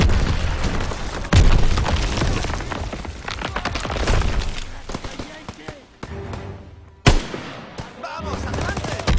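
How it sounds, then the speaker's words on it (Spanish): Bursts of gunfire and booming blasts in the video game Call of Duty: WWII, loud and close, with rapid automatic fire and shouted voices mixed in. "¡Disparos! Los nuestros deben estar cerca."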